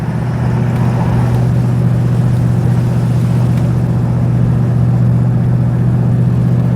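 A classic Daimler 2.5 Litre V8 with a Borg Warner automatic transmission accelerates smoothly, its steady low engine hum heard from inside the car with the window down, alone and without talk.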